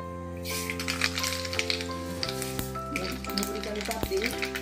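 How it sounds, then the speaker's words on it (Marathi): Mustard seeds sizzle and crackle in two big spoons of hot oil in a home kitchen pan while making a thin poha chivda, a steady loud frying hiss with scattered small pops and stirring clinks throughout. "तेल तापलंय. आता आपण याच्यामध्ये मोहरी घालूया पहिल्यांदा."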